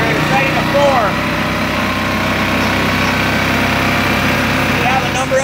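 A 2019 Yamaha Grizzly 700 EHS ATV engine runs steadily at idle during a tuning test, a continuous buzzing mechanical drone with a few brief higher squeaks and people talking faintly under it.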